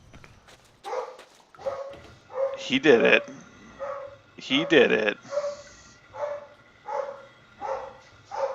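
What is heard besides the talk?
dogs barking excitedly, Blade of Darkness video game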